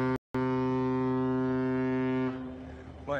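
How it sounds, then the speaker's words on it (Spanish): Riverboat horn on an Argentine vessel navigating a river, sounded as a warning to a canoe: one long, loud, steady harmonic blast after a brief gap, then cutting off into engine hum and water noise. "¿Quiere que toque bocina?"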